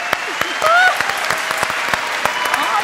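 Audience applause for a singer on a Turkish music TV show, a steady patter of clapping hands filling the space with a faint whistle rising briefly over it.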